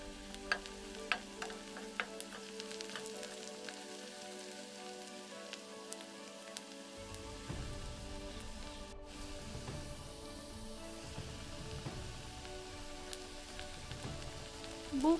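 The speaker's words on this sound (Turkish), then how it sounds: "Şimdi öncelikle ısıttığım tavama soğanları alacağım, bir çevireceğim." Onions sizzle and crackle in a heated pan, with scraping stirs and a steady frying hiss that grows busier partway through, close and alone with no talk.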